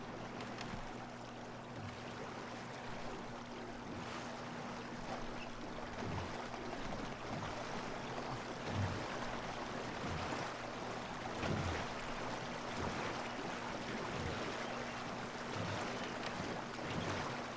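In Red Dead Redemption 2, a rowing boat moves over water with faint, rhythmic oar strokes and soft splashes repeating at an even pace under a quiet, constant ambience.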